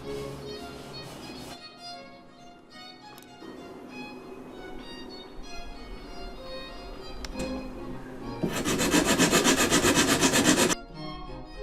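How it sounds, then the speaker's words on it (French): Three fingers rub along the edge of a violin back or top in a luthier's workshop, a soft dry scraping that comes in light strokes, then a louder, denser rubbing burst near the end. "on frotte avec 3 doigts sur la tranche du fond ou de la table"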